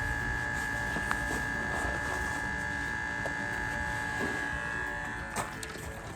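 A Flowzone Cyclone 2.5 backpack sprayer pump runs on setting 4, giving a steady, close electric buzz with a constant whine that holds for the whole stretch, with no talking.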